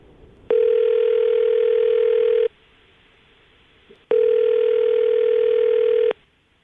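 A radio morning-show phone call rings out over the line: two long, steady ringback tones, each about two seconds, separated by a short gap of quiet line hiss, heard clearly and alone.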